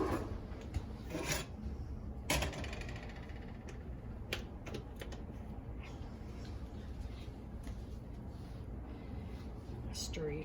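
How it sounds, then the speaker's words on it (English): A debubbler stirs strawberry sauce in glass canning jars, making soft scraping and rubbing sounds with occasional sharp clinks against the glass, close up and fairly quiet, repeated across several jars. "Stir each one of these jars around because I want to make sure I've got enough berries in each of the jars"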